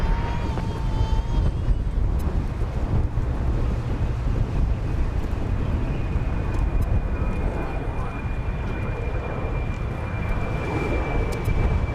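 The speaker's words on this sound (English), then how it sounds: "I was prepared for quite this much wind." Strong wind buffets the microphone at DFW Airport, a continuous loud roar and rumble throughout, with a distant aircraft engine tone faintly audible beneath it.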